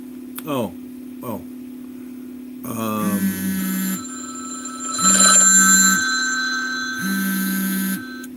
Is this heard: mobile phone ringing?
yes